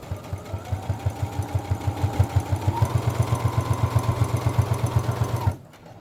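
Home sewing machine running a straight seam down the side of fabric scraps for a small coin or earbud case, a fast steady needle chatter repeating close and loud for about five seconds before it stops abruptly.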